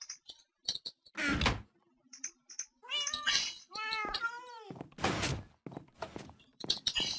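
Cats meow repeatedly in a survival farming video game, several drawn-out mews and caterwauls at varying pitch, interspersed with soft thunks and door-like clicks, fairly quiet and close.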